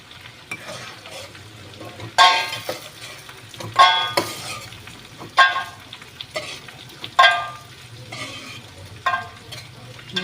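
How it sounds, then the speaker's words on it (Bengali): Fried lentil dumplings (bori) are scooped out of hot oil, sharp metallic scrapes and clinks of the utensil recurring every second or two over a continuous quiet sizzle, close and without voices. "আমি বড়িগুলোকে তুলে নিচ্ছি"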